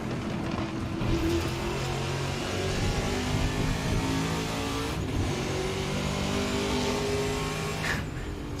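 A Trans Am race car engine in Assetto Corsa revs loud and steady on track, the sustained mid-pitched roar rising and falling through gears with no talk over it.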